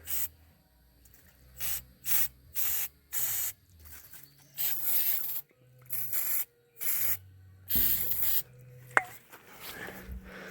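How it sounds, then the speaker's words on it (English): Starting fluid is sprayed into a lawn mower carburetor in a series of short, hissing aerosol bursts with pauses between them. The bursts are close and fairly quiet, with light clicks and handling noises in the gaps. "shoot another shot or two of starting fluid down inside the carburetor here and hit the choke"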